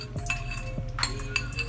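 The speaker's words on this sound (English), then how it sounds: "So what I do is just mix it." A spoon mixing a small jelly-like mixture in a dish, giving quiet repeated clinks and scraping taps at an irregular rhythm, close by, with no talk.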